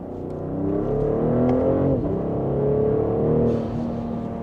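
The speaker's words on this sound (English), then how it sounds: "You can hear more of the exhaust" A BMW X5 with the factory M Sport exhaust pulls hard in second gear, its engine note rising smoothly, dipping briefly, then climbing again, heard close from inside the cabin.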